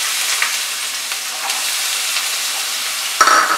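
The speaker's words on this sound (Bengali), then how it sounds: "এবার আমি সবজিগুলোকে ভেজে নেব" Carrots and other vegetables fry in five tablespoons of hot white oil in a wok for vegetable fried rice, giving a steady close sizzle with a brief scrape of stirring near the end.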